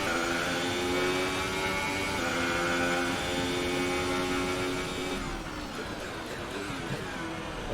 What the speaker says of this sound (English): ICE is sounding real rough.